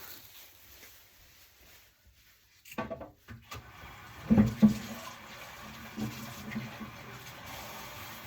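Tap water runs as paint-mixing tools are rinsed for a Dutch pour painting. A soft splashing stream starts partway through, with a few knocks and clatters, and faint speech in the background.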